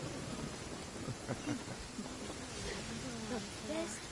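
Steady rain hisses across a Genshin Impact game scene, a soft continuous wash of drops with faint murmuring voices underneath throughout.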